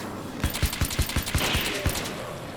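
Nail gun fired repeatedly in the video game Alan Wake's American Nightmare, a rapid run of about ten sharp close shots in quick succession.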